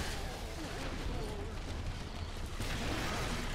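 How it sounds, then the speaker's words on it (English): Dense, continuous explosions and combat blasts in the co-op video game Orcs Must Die 2, rumbling loudly throughout with players talking over the chaos. "Explosion!"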